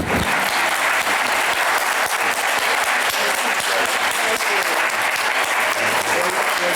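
An audience at a Black nurses' day celebration breaks into dense, sustained applause, loud and close, with crowd noise mixed through the steady clapping for the whole stretch.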